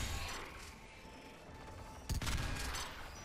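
Geth weapons firing in Mass Effect 3 during a firefight, a steady wash of distant gunfire that swells into a sharper, louder burst of shots partway through, with no voices over it.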